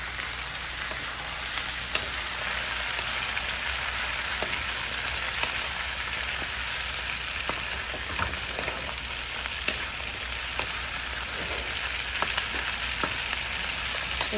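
Chilli chicken fries in a pan and is stirred, with a steady close sizzle and scattered sharp crackles and spatters that continue throughout.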